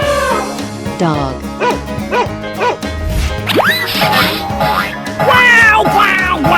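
A cartoon dog's barks and yips pop out of a 3D animal slide game amid cheerful music and sliding whoosh effects, several short bright calls in a row, near and loud.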